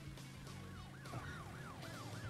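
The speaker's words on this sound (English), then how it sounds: "Now the police cars move back and forth" A wailing police siren in the video game Crash Bandicoot 3: Warped, rising and falling in quick repeated sweeps, fairly faint, over a low engine rumble.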